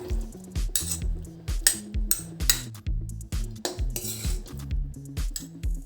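A spoon scrapes and clinks against a cooking vessel while scooping cooked red amaranth greens into a bowl, a quick series of close metallic taps and scrapes with no talk.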